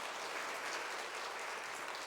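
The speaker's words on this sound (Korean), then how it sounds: "박수 한번 쳐주시죠." Faint, steady applause from a crowd, a dense patter of clapping heard from some distance for a couple of seconds.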